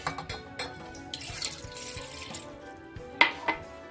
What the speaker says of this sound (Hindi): 1 गिलास पानी लेना है